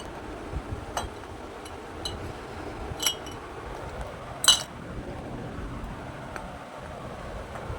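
Kitchen items from a parcel, including an oil container, are handled and set aside: faint clinks and knocks come every second or two over a constant background hum, with one sharper clatter near the middle.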